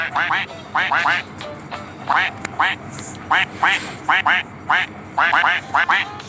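A blue cartoon duck in the Roblox video game quacks in quick repeated bursts, several clusters of sharp quacks with short gaps between them, over a soft background hum and no talking.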